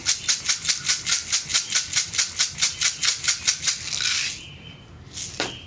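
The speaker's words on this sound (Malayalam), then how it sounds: "ഇതെല്ലാം ചേർത്തൊന്ന് ക്രഷ് ചെയ്തെടുക്കാം" Black pepper and dried red chillies are crushed in a kitchen with a quick, even run of about twenty sharp taps. A short grinding rasp and a couple of faint knocks follow.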